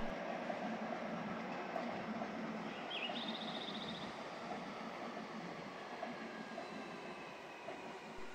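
A Nankai Koya Line train passes through a station with a steady rumbling roar of wheels on rail and a brief high squeal partway through, heard from a platform with no talking.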